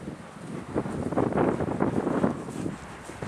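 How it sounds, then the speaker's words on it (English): Strong wind blowing outdoors beside beehives on a very windy day, gusting and buffeting the microphone in rising and falling surges, with no talking. "Now it's very windy today"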